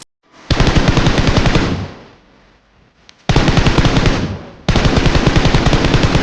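Loud, close bursts of rapid automatic gunfire in the mobile battle royale game PUBG Mobile, three long sustained volleys separated by brief quieter gaps, with no talking over them.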